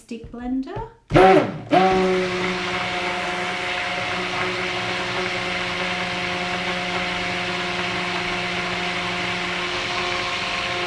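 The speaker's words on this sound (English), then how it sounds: "Just burp my stick blender." Stick blender mixing a batch of apricot and coconut soap: after a brief stop-start burp, the motor settles into a steady, close whirring hum that runs continuously to the end, with faint talk at the start.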